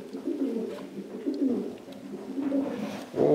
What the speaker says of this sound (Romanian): Un porumbel deosebit.